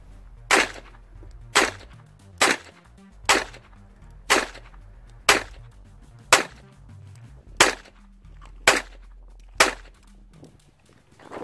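Eleven sharp gunshots from target shooting with a 9 mm pistol ring out at a steady, evenly spaced pace about one second apart, each a loud crack that fades quickly, with no talking.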